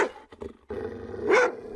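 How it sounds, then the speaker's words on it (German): Short, mid-distance barks and a growl come from a biting dog, heard alone and without talking, with a louder bark near the end. "Watch out, biting dog."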